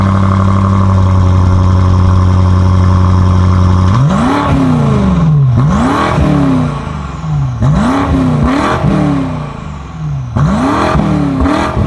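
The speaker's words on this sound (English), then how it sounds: "In this angry, robotic, throaty V8 way, I absolutely love it." A BMW M5 Competition V8 idles with a steady throaty burble, then revs sharply four times in repeated rising and falling sweeps, loud and close with no speech.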